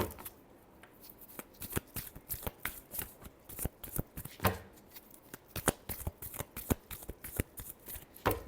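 Tarot cards are shuffled by hand close up, a rapid series of crisp papery riffles and slaps in irregular bursts, with no talking over them.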